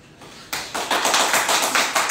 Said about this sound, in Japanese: かっこスタッフ拍手って書いてある